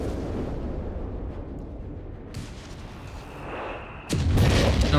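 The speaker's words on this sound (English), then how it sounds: "Ooh, massive strike there." Artillery strike explosions from the Company of Heroes 3 video game boom and rumble as a battle roars on, with a heavy blast crashing in near the end over dense battlefield noise.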